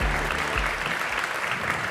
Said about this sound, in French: Sous applaudissements, Nicolas Leroy-Fleuriot.